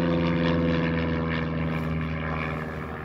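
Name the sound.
airplane flying overhead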